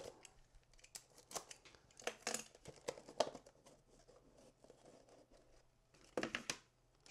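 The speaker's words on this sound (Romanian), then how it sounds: "să tăiem și sigiliile" Packaging seals on the box of an Adapteva Parallella board are cut open. Soft, close snips and crinkles of paper or plastic come in irregular bursts at low volume, with no talking.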